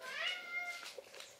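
A cat meows close by, one drawn-out rising meow followed by a couple of shorter, softer calls, with no talking.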